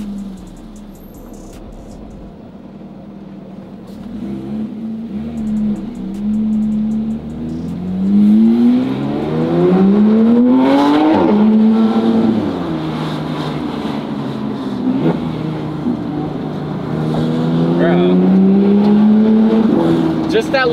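A twin-turbo Lamborghini Huracan drives and accelerates, its engine note climbing in repeated rising sweeps between shifts. The sound is heard from inside the car, with people talking over the engine throughout.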